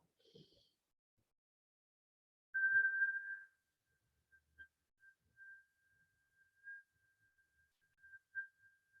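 A faint, thin whistle tone holds steadily after a short breath, fading in and out softly in an otherwise quiet space.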